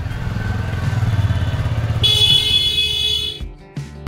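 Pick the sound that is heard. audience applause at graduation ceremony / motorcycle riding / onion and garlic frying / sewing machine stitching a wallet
motorcycle riding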